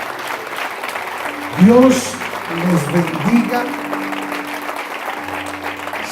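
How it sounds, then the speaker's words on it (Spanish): A church congregation applauds in a steady wash of clapping while a pastor speaks a short blessing over it, his voice rising out of the crowd noise. "Denle un fuerte aplauso al Señor."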